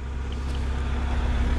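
Traffic roars past a tree-climbing job site, with a loud, steady engine and road rumble close by and no voices over it.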